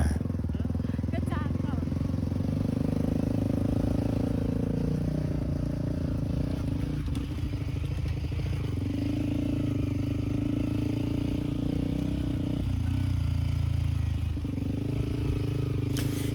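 A motorcycle ridden across the sandy Bromo area, its engine droning steadily close by with rough rattles and wind noise, and a voice talking over it for much of the ride.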